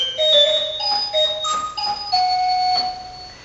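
Organ stops are combined to play a spooky ghosts-and-goblins effect. Eerie sustained tones slide and waver in pitch in close, overlapping notes.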